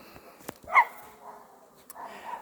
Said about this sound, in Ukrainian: Щось залаяли собаки